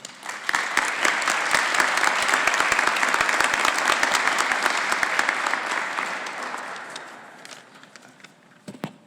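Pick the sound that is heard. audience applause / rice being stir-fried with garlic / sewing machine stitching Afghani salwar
audience applause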